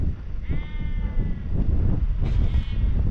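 Sheep bleat on an open mountainside beside a walking path, one drawn-out, wavering call followed a moment later by a shorter second bleat, both fairly close over a steady outdoor background.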